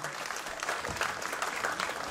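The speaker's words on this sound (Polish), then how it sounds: "podziękujmy gorącymi brawami wszystkim orkiestrom" Steady applause from a crowd at a youth fire brigade orchestra festival, many hands clapping continuously at moderate volume throughout, with no speech over it.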